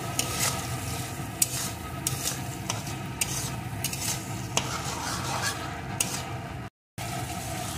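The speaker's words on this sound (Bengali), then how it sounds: "এখন সমস্ত মশলাটা সুন্দর করে কষিয়ে নেব।" Spice masala of turmeric, salt and a little sugar fried and stirred in a pan for a prawn and cauliflower curry, a soft continuous sizzle under regular scraping strokes of a spatula, close and steady with a brief dropout near the end.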